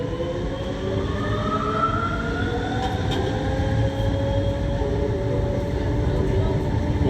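Ride aboard a Lille metro train, set HP 121, heard as a steady loud rumble with rising and falling motor whine throughout, without voices.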